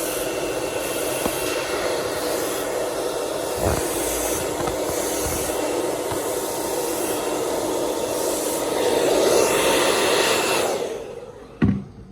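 A hair dryer blows hair during a blow-dry class, giving a loud, steady whooshing roar that swells slightly near the end before cutting off, with a short knock just after.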